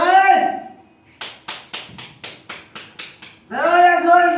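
Knocking on a door during a Hindi stage play, about eight sharp, evenly spaced raps between raised voices shouting before and after.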